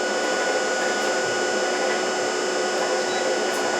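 A generator runs steadily at speed under a 500 watt load, a constant loud whine and hum holding the same pitch throughout, close and alone with no voices.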